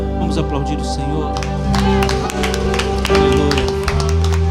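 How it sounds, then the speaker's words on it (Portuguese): A church congregation clapping in rhythm along with loud worship music, the repeated claps steady and layered over sustained instruments and singing. "Vamos aplaudir o Senhor"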